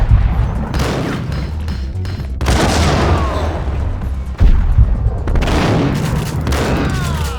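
Sustained gunfire from the Max Payne video game, with loud overlapping bursts and booming impacts running continuously, heavy and close, with no talk over it.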